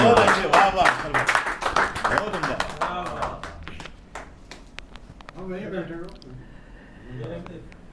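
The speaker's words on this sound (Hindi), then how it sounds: "ज़ोरदार तालियों से आप लोग" An audience at an Urdu poetry mushaira claps in a dense, lively burst that thins out, and a voice then speaks over the last scattered claps.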